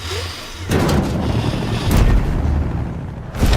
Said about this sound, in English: the amp suit has to sound like the most massive cannon you ever